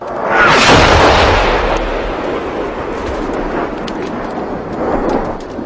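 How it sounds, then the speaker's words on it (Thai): RPG rocket explosion sound effect in a wartime battle scene, one heavy boom swelling up and rumbling away, then a long rolling tail of debris and reverberation. "เสียงระเบิดดังสนั่นวันไหว"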